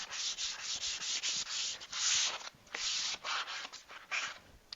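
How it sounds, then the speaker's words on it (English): Hand sanding on wood, close up, in quick back-and-forth rasping strokes with short pauses between them. "You're just sanding to break the surface tension."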